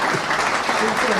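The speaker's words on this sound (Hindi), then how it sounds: "एक बार वृंदावन राजसल जी के सम्मान में भी जोरदार ताली बजा दो" An audience at a Hindi comic poetry gathering (kavi sammelan) applauds, a dense, steady wash of clapping filling the space, with voices mixed into the crowd noise.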